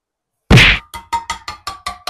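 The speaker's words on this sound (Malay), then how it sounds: "Cara buka susu cair zaman dulu-dulu kala ya. Ambil penumbuk ni, lesung batu ni." A knife hammered into a condensed milk tin with a stone pestle: one loud metallic whack followed by seven quicker, fainter clanking taps in a steady rhythm, close and with no talk.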